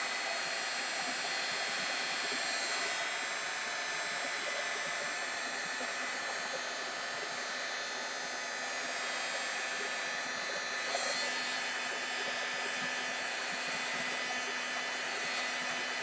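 A craft dryer blows steadily over a freshly painted scrapbook layout, giving a continuous whirring hiss that runs unbroken for the whole stretch with no talking.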